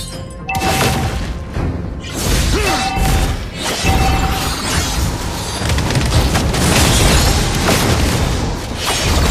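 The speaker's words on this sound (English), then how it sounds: "Our turret has been destroyed." Mobile Legends turret destroyed in battle, a loud booming crash with smashing debris over dense continuous game action and effects that stay busy throughout.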